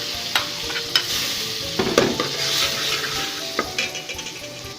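Ginger garlic paste sizzles in melted butter in a pot, a loud steady frying hiss with occasional clinks and scrapes of stirring and no voices.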